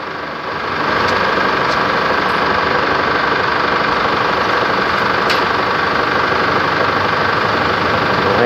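A Chevrolet Trailblazer engine idles steadily after a new AC compressor was fitted, a dense continuous running drone with faint ticking that holds level close by, with no talk over it.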